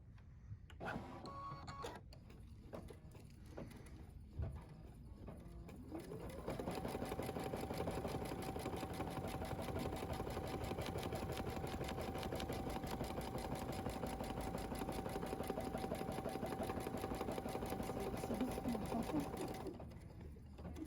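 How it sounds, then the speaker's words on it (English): An embroidery machine stitches an outline over mylar on a snowy night art canvas, a steady, rapid mechanical chatter with a whirring tone that runs continuously after a few short starting stitches. "Embroider the mylar outline stitch, color number 4."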